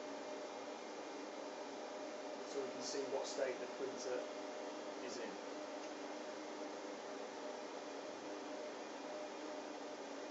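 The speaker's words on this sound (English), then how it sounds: "the fans will kick in to get to curing temperature" Fans of an HP Latex printer run steadily with a broad, even whoosh as the machine heats toward curing temperature, while someone talks over the constant drone.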